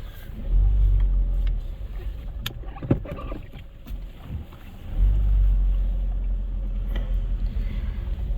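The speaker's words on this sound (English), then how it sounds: "I'll just reverse off my drive." A VW Golf Mk5 with an intermittent ABS fault reverses off a home driveway, its low engine rumble rising and falling as it pulls back, with a couple of sharp knocks midway and no talk.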